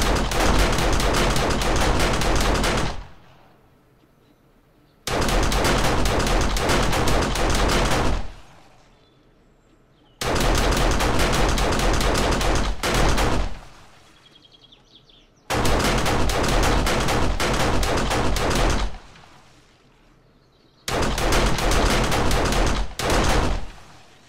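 An automated gun turret in a video game's killbox fires five loud, sustained bursts of rapid gunfire, each about three seconds long, separated by short silent pauses.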